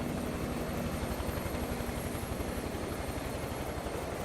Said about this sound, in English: I can still hear your helicopter moving around.